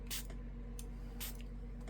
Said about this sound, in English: let's spray some water on here